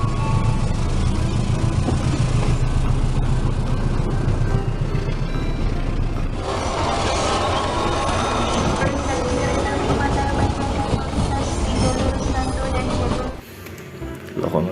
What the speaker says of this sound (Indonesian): selanjutnya KRL khusus wanita